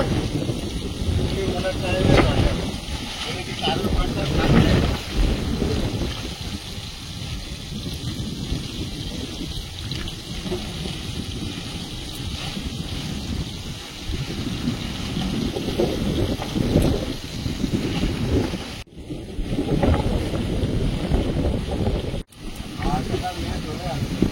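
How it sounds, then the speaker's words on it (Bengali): Steady southerly wind rushing and buffeting across the microphone during outdoor cooking for the whole stretch, with broadband roar and occasional gusts; faint voices may sit beneath it. "হাওয়া দক্ষিণ দিকের হাওয়া তো"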